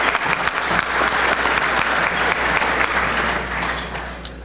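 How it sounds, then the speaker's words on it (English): Audience applause at a community awards dinner for Reader's Choice winners, a dense, steady round of clapping from a sizable crowd that fills the whole stretch and tapers slightly at the end. "A round of applause, please,"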